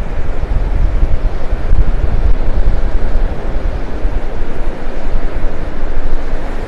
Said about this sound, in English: That wind's blowing right into my face now.